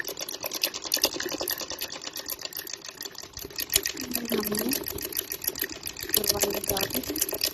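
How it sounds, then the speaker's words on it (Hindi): Sewing machine running a double seam along a trouser bottom hem, a fast steady stitching buzz that carries on close and continuous throughout. "ये हमने इसकी डबल वाली सिलाई लगाना शुरू कर दी है।"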